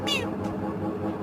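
A cat gives one short, close meow, rising then falling, followed by a softer trailing sound.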